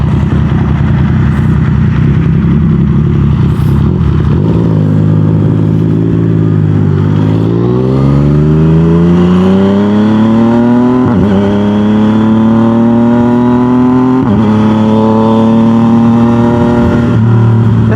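A Yamaha MT-09 motorcycle engine revs hard through a loud aftermarket exhaust, pitch climbing and dropping in repeated surges, close and raw with no one speaking.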